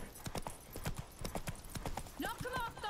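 Horse hooves clip-clop at a gallop in The Witcher 3, a steady drumming of hoofbeats under shouted dialogue, combat noise and voices throughout.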